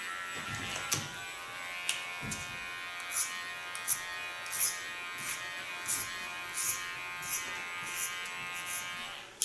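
An electric hair clipper buzzes steadily up close while cutting hair, its constant whine punctuated by brief rhythmic snips and rasps as the blades pass through strands.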